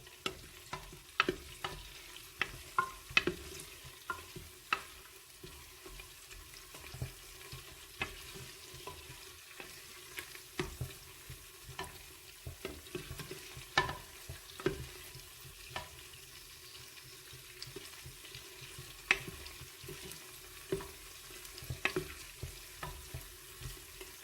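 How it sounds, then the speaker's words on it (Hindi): Green lentils frying in a pan, stirred with a spoon: a steady soft sizzle under frequent sharp scrapes and taps of the spoon against the pan, no voices. "एक मिनट के लिए अब हम इसे हिला लेंगे ताकि एक अच्छी सी खुशबू आ जाए।"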